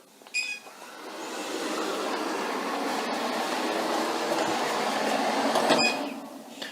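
Robot vacuum and mop combo running over a ridged carpet, giving a steady, fairly quiet whirring drone with a few faint clicks near the start and end, no voices.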